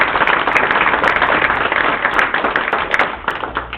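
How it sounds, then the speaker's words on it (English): Dense, steady applause from a crowd at a council meeting fills the whole stretch, many hands clapping at once without any voices on top. "you should get a round of applause for that"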